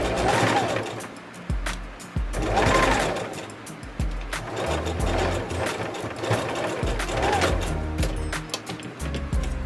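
A sewing machine stitches down a seam on a wrap dress in several loud, close, whirring runs of a few seconds each, separated by brief pauses, with no voices.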